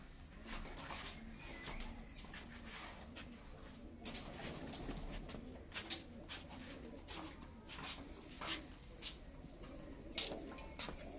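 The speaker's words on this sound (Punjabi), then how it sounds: "ਮਾਸ਼ਾਅੱਲਾ ਸ਼ਰਮੀਲੀ ਕਬੂਤਰੀ ਹੈ" A shy female pigeon coos softly on a rooftop loft, low murmuring calls running through the background while sharper, brief sounds tap in now and then.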